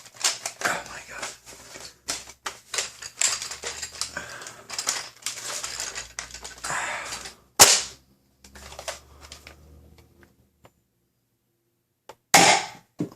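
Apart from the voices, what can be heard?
Sentry X2 dart blaster with 18 kg spring upgrade firing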